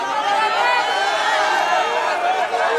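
An arena crowd at a Brazilian jiu-jitsu world championship match calls out in a loud, continuous roar of voices, urging a stalling fighter to engage.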